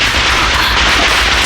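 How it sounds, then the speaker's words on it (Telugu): Firecrackers burst outside in a dense, unbroken crackle, loud and rapid like gunfire, with no voices. "బయట ఏమిటా టపాకాయలు మోత?"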